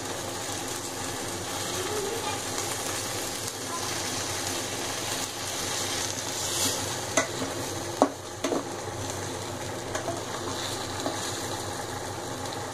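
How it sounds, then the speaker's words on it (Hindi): Tomatoes and onions for paneer bhurji cook gently in a pan over low heat, giving a steady soft sizzle with a few light stirring clicks and knocks, no voices. "जब तक कि टमाटर हल्के से घुल ना जाए हमें इन्हें जब तक पकने देना है।"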